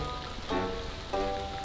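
Rain falls steadily in a forest as a dense, even hiss of drops on surfaces. Heavier patter swells briefly twice over the constant wash, with no voices heard.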